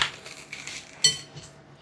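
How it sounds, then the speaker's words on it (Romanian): A whisk beating egg whites with sugar into foam in a bowl for a Tosca cake, giving faint, intermittent clinks and scrapes of metal against the bowl. "Și vom bate albușurile cu zahărul până se face o spumă"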